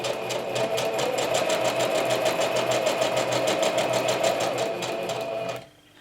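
Sewing machine on an unsteady table stitching a vellum scrap pouch, a fast, continuous mechanical whir with rapid regular clicking for about five seconds before it abruptly stops.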